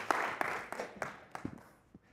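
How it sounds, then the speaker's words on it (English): An audience at a community church gathering claps for the town mayor in a loose, thinning round of applause with scattered individual claps, moderately distant and fading out after about two seconds. "let's give Mayor Dave Seaman a round of applause for coming out today"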